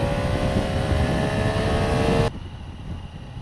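A Triumph Tiger motorcycle engine pulling in third gear at about 30 on grass, a loud steady droning roar with heavy wind buffeting, dropping abruptly to a quieter hum partway through.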